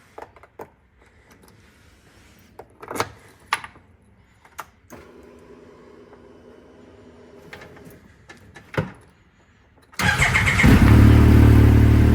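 A few scattered clicks and thumps, then a 2024 Yamaha YXZ1000R UTV engine fitted with a GYTR DASA exhaust suddenly fires up and holds a loud, steady idle to the end.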